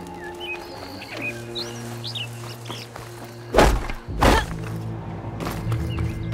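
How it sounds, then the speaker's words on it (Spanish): Faint, scattered bird chirps sound in the video game Horizon Forbidden West over a low ambient bed, followed by several heavy thuds that dominate the later part. "Mierda, hay unos pájaros aquí."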